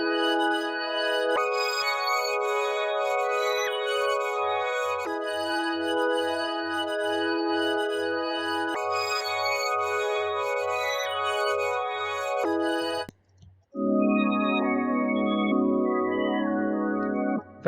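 A bare synth pad with no effects plays sustained chords that change every few seconds over a steady low pulsing bass, then drops out briefly before a brighter, denser section near the end.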